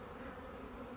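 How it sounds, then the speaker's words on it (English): Honey bees fly around a hive, a dense, continuous buzzing swarm hum filling the air close by without pause. "There's quite a few bees in the air"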